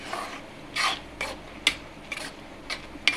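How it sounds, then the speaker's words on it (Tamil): Carrot halwa stirred in a pan, heard as a series of about seven short rasping scrapes in an irregular rhythm, close and fairly quiet, with no voices. "கூட்டிக்கிட்டு நல்லா கிண்டி விடுவோம்."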